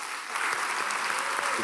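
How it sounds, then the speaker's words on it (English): Warm audience applause at a film Q&A following a SXSW screening of Música, steady dense clapping throughout at an even level. "Give them a very warm round of applause."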